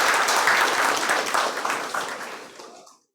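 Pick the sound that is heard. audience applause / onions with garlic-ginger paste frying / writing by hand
audience applause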